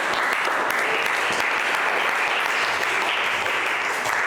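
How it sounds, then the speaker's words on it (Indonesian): A room full of people claps steadily, dense continuous applause at an even level throughout. "Tepuk tangan untuk kita semuanya."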